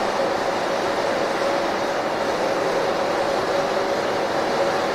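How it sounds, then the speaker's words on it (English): A Cooper-Bessemer GMXD two-stage propane compressor runs in a compressor station, giving a steady, loud mechanical roar with a constant tonal hum that holds unchanged throughout, no voices. "This is one of the propane compressors."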